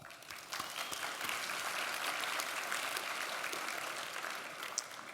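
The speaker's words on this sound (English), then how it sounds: "Give yourself a round of applause." Audience applause at an award celebration evening, a steady sustained wash of many hands clapping at moderate distance, continuous for the full stretch without speech.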